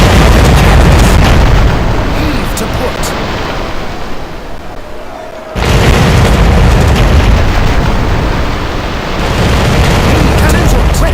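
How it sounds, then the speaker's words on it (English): Ship cannons fire in a naval battle in the game Commander: Conquest of the Americas, as loud, dense booms spread over a constant din of battle, with a spoken command over the noise. "Fire port cannons!"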